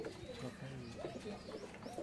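Pigeons coo at a loft as birds come down to it, several overlapping rolling coos repeating steadily at moderate distance.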